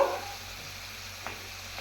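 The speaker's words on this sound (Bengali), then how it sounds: "নুন দিলাম এই যে হলুদ দিলাম দিয়ে আমি এটা ভালো করে খুঁটি দিয়ে নেড়ে ছেড়ে দেবো" Prawn malai curry masala sizzles in a pan as a spatula stirs it, a soft frying hiss with a scrape at the start and another light scrape near the end.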